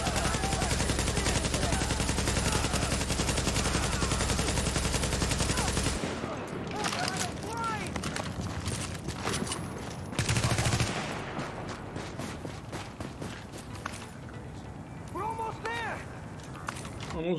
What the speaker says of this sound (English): So I'm going to shoot the middle guy with the stun grenade.